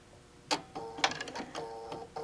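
A quilting sewing machine sits in its hover position, giving faint whirring and a few sharp clicks and mechanical stitch sounds, close and quiet, with no talking.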